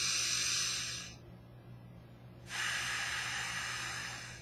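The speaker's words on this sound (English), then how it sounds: "Take 3 breaths." Deep belly breaths during a guided breathing exercise: a long hissing exhale, a quiet pause, then another strong breath, close and alone.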